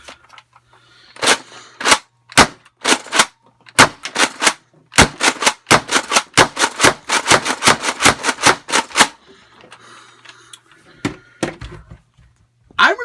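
A Nerf MEGA Rotofury blaster firing Elite darts at a wall, a rapid burst of sharp snapping shots in an irregular rhythm, loud and close, then trailing off into quieter clicks and handling noise.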